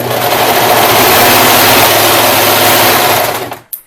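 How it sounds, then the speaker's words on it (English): Sewing machine stitching a folded fabric binding into a circle produces a loud, steady mechanical whir for about three and a half seconds, then stops abruptly with a brief clunk. "We're going to fold it in half and stitch it into a circle."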